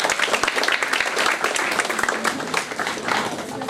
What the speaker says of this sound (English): Clap hands, audience